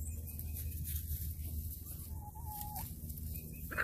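Several roosters kept together cluck faintly and give a thin drawn-out call, distant and soft over a steady low rumble.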